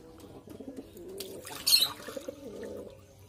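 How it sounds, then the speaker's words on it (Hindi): Pigeons coo softly on a rooftop, with a few low, rolling calls over faint background sounds and a brief splash of water midway. "सारे कबूतर हमारे चले गए अंदर"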